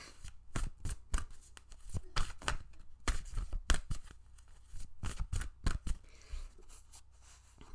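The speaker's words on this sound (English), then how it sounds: "let's pull some more cards and see where this goes." Oracle cards shuffled and pulled from a deck, a run of crisp riffling bursts and snaps in irregular clusters, close and fairly loud, with no talking.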